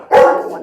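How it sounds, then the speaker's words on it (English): A dog gives a single loud, close bark at other dogs walking past the yard outside a house, the sound trailing off briefly afterward. "just dogs walking past our yard, so she has to bark at them"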